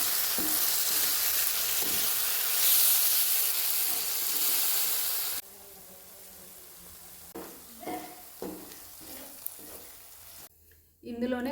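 Tomatoes frying in a pan for a meal maker masala curry give a steady loud sizzle that later drops lower and more broken, with stirring and scraping clatter.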